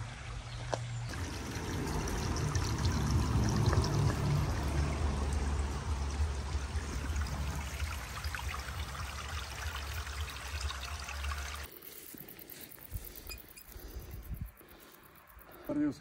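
Kravský stream flowing beside a hiking route, a close, continuous gurgling and pouring rush of water that fills most of the stretch before dropping away abruptly, leaving quieter surroundings.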